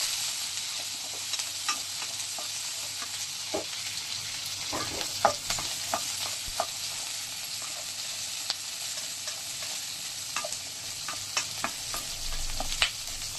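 Onions sautéing in a pan for a chicken fry: a continuous close sizzle with scattered sharp stirring clicks and spatula taps, no talking.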